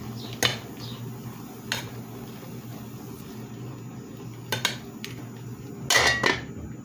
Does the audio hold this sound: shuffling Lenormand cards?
no